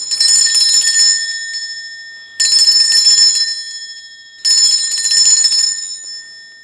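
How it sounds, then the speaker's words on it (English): A high, shimmering bell rings three times in steady succession, each strike sustaining and fading before the next, loud and alone. "I'm going to be ringing a bell just to cleanse the space around us."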